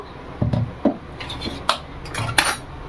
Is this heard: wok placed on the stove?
yes